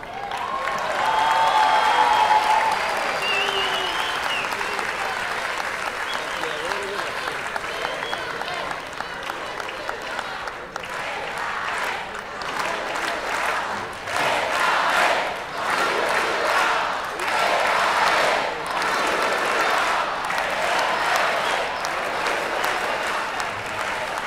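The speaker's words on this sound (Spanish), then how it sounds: "entiendo que los aplausos que están cansados" Audience applause at a religious gathering with a sermon about faith, a steady broad wash of clapping from a crowd that swells and fades in waves, with some voices mixed in.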